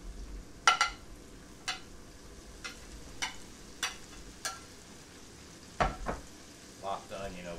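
Chinese sausage and onions fry in a pan for fried rice, a faint steady sizzle broken by about a dozen sharp scrapes and clacks from stirring.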